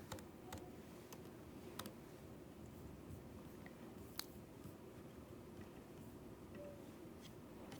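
Quiet, scattered clicks of typing on a computer keyboard, irregular light taps and a few sharper key strikes, faint under a steady background hiss.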